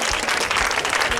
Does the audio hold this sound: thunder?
no